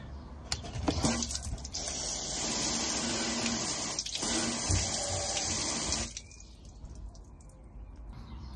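Water jet sprayed up under the front wheel arch of a car, onto the chassis treated with Lanoguard, making a steady close hissing gush for about six seconds before dropping off.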